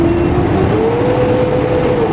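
A Hino 500 series truck engine with low power and hard starting revs during an RPM check, a loud, close, steady drone whose pitch climbs slightly and then holds.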